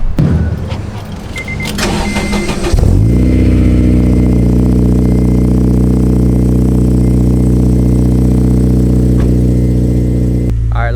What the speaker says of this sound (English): Let me start you off with a cold start